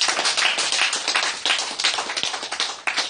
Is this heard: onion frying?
no